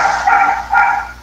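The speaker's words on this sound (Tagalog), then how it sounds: "Masakit sa taingay yung tahol ng aso." A dog barks loudly and close by in two sharp bursts during a live radio call, the barks harsh and insistent with no talk over them.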